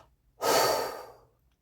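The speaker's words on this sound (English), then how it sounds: "Take a deep breath." A single deep breath drawn in slowly and let out, close and clear with no talking, fading gently over about a second.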